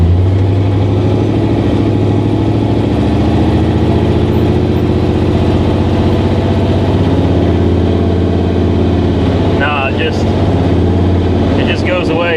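A 1959 Rambler, built to 1000hp, runs with a steady, throbbing engine drone while gears are tested, the pitch shifting slightly, with someone talking over it near the end.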